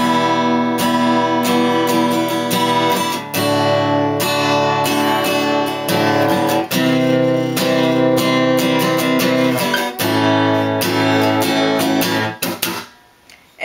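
An acoustic guitar plays a song's pre-chorus, steady strummed chords in a driving rhythm, loud and close with no voice, fading out at the very end.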